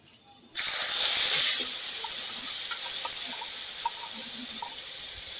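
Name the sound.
nigella seeds and turmeric sizzling in hot oil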